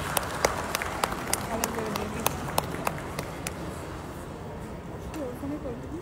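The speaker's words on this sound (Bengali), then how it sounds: "হাততালি" Hand claps ring out in a quick, even series of about a dozen sharp slaps, then stop partway through, with people talking underneath.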